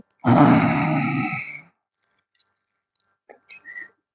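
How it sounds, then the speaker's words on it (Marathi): A person doing yoga breathing pushes a long, loud, voiced exhale through the throat for about a second and a half. It is close and rough, then fades into near silence broken only by a few faint small noises. "श्वास वाढताना घशातून आवाज काढत श्वास हात खाली घ्यायचा"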